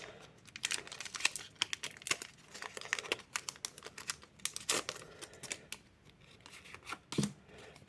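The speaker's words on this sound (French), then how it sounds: "c'est parti pour l'ouverture du premier booster" A Pokémon Scarlet & Violet Obsidian Flames booster pack being torn open, crisp foil crinkling and ripping in quick irregular bursts, close and fairly quiet, with no talking.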